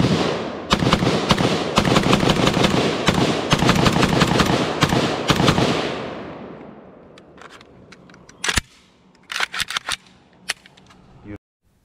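A CZ Bren 2S carbine fires outdoors in rapid strings of loud, sharp shots for several seconds, then fades into sparse single reports and a few quick bursts before silence.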